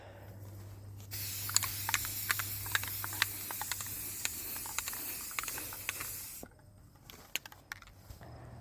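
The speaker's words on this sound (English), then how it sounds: "I do have some experience with the can, but I'm not a super spray painter" A spray paint can used while restoring a damaged deer stand, giving a steady hissing spray for about five seconds, followed by short sharp bursts, close up with no talking.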